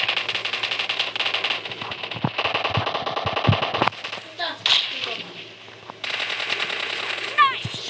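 Rapid bursts of automatic machine gun fire in the mobile game PUBG Mobile, loud and continuous for several seconds, then pausing and resuming, with a player talking over the shooting.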